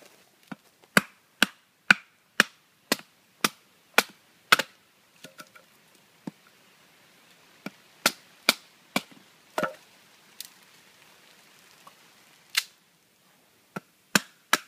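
A prototype knife from Lumberjack Knives carving a feather stick from wood, heard as crisp separate chopping cuts and snaps, spaced at a brisk uneven rhythm with short pauses, close up in a quiet setting.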